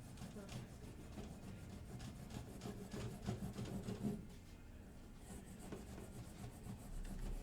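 Steel wool is rubbed along a guitar fretboard with the grain, a faint, rhythmic rasping scrub in quick repeated strokes, close and quiet.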